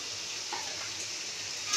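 Chicken alfredo pasta sauce sizzles steadily in a pan as it is stirred, a continuous soft frying hiss with faint utensil movement, close and fairly quiet.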